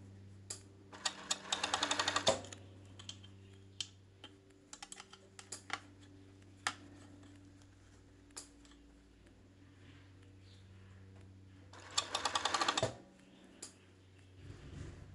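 A sewing machine stitching fabric in quick bursts of rapid stitching separated by pauses and scattered clicks, close and fairly quiet, with no talking.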